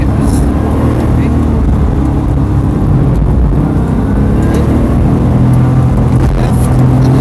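A car engine at full throttle on a race track during a practice session, holding a steady loud drone with slight rises and dips throughout, heard from inside the car.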